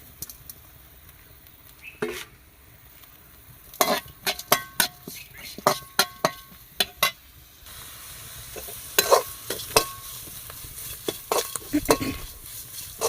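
Grated coconut is stirred in a pan while sautéing for a rice and mint coconut chutney. A spoon scrapes and clinks against the pan in irregular strokes over a low sizzle, close up.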